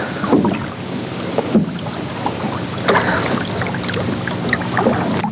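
Sculling oars pulled through water on a small rowboat, with repeated soft splashes and drags in a steady stroke rhythm over wind noise and lapping water, no voices.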